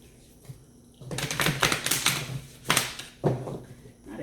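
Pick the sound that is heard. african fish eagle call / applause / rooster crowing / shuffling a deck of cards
shuffling a deck of cards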